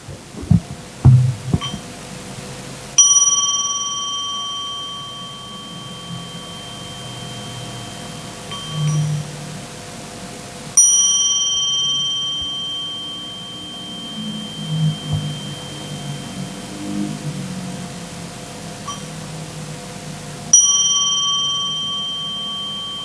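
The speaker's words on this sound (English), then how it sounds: "So please end up with the last sound of the bell" A mindfulness bell is struck three times, roughly eight seconds apart, each ring sharp at onset and then decaying into a long, sustained tone, with a soft low hum and faint murmur between strikes.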